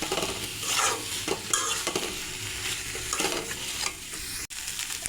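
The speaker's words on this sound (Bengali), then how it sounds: "এবার মশলার সঙ্গে ভালো করে কষিয়ে নেব।" Fried kakrol and shrimp being tossed with spice paste in a hot pan, a close sizzle with regular scraping stirs of a spoon and one brief dropout near the end; no talk.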